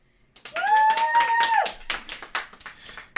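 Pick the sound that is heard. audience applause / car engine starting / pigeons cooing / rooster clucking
audience applause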